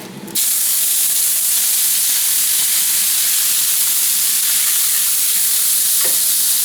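Pepper steak hits smoking-hot olive oil and bursts into a loud, continuous sizzle and hiss that holds steady close up, with a faint clink of a utensil near the end.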